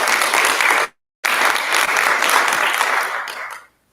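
An audience at a town hall symposium gives a round of applause, a loud dense wash of clapping that breaks briefly, resumes and then ends sharply.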